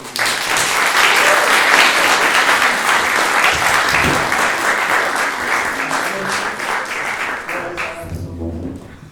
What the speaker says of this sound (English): So give them a little round of applause